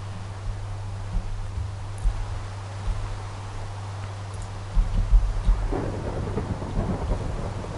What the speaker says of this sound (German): Der Regen ist schon sehr laut.